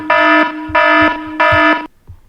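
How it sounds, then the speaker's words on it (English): An alarm clock web app built with HTML, CSS and JavaScript sounds its alarm in three loud, steady electronic beeping bursts of equal length, then goes quiet. "We can stop alarm by click on clear alarm"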